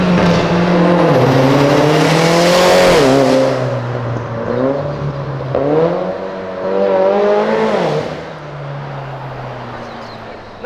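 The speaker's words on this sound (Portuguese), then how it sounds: "Ouvi o ronco. É da turbina enchendo, barulho da turbina enchendo." A Honda Civic Type R engine revs loud and close, its turbo spooling with rising and falling whine over two long pulls, then settling to a steady idle-like drone.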